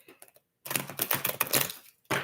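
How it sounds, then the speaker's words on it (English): A brand-new tarot deck is shuffled by hand: a brief soft flutter, a pause, then a long, dense riffling burst of card edges, ending in one more short flurry, close and fairly quiet. "Gotta be careful how I shuffle."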